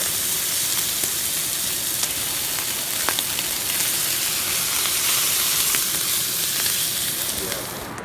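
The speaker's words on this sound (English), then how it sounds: "throw the onions on and the mushrooms, get those all seared up" Onions and mushrooms sear in bacon grease on an outdoor grill in the High Sierra, a loud, dense, continuous sizzle up close with a few faint crackles and pops, easing slightly at the end.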